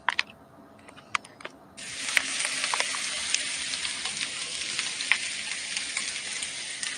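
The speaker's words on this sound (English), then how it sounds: "Now that's the potatoes frying." Sliced potatoes with a little onion fry in sausage grease in a pan, a soft crackle that suddenly swells into a loud, steady sizzle, with a few sharp pops and clicks throughout.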